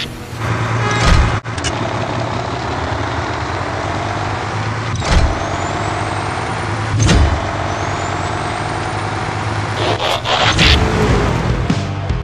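Optimus Prime truck in a mobile truck video game, a loud, steady diesel engine idling and rumbling with several sharp hissing bursts of air brake pressure spaced across it.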